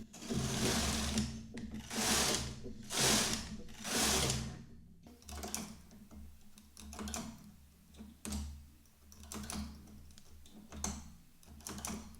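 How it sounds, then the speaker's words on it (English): A domestic knitting machine carriage is pushed back and forth across its needle bed to knit rows of a cable-look rib stitch, giving repeated swishing, clattering passes at close range, some stronger than others, with no talk. "We'll bring needles back in work using my needle pusher, and I will knit 4 rows."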